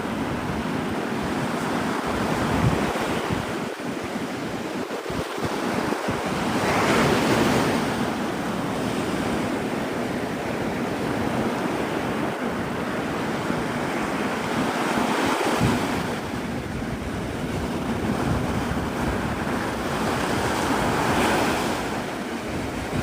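Ocean surf rolls continuously onto Navarre Beach, Florida, swelling and easing in broad washes under steady wind buffeting the microphone, with no voices.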